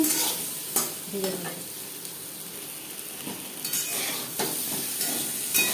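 Potatoes frying in a pan with salt and turmeric for Bengali alu posto, giving a steady soft sizzle and hiss with occasional stirring scrapes and spatula taps, close and fairly quiet.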